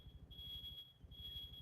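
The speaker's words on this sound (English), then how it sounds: "I heard the fire alarm" A home smoke alarm sounds in an apartment as a thin, steady high-pitched tone that drops out briefly and returns. It plays faintly over a low, pulsing game soundtrack.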